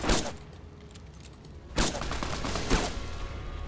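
Gunfire bursts in the post-apocalyptic video game Fallout: New Vegas, with a sharp shot at the start, another burst near the middle and a third shortly after, over a steady rumbling background.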